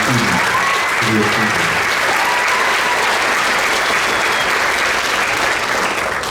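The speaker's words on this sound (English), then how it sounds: "So round of applause one more time for those teams." Loud, continuous audience applause for the competing band teams at a combined band event, a dense steady roar of clapping with a few voices briefly audible at the start.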